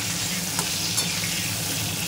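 Onions and vegetables fry in a pan for a light bata fish curry, giving a steady close sizzle with a couple of brief stirring scrapes and no talking.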